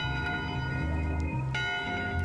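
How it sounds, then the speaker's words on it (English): A ship's bell in Return to Monkey Island rings twice in quick succession, bright metallic clangs with long sustained ringing over a low background music bed. "Ring the ship's bell."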